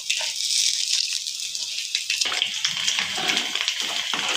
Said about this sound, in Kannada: ತೊಳ್ಕೊಂಡಿಟ್ಕೊಂಡು ಅಕ್ಕಿ ಹಾಕ್ತಾ ಇದ್ದೀನಿ.